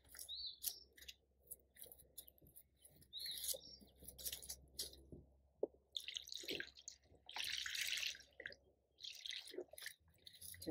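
Water drips and trickles in short, irregular bursts onto soil, with birds chirping nearby in the background.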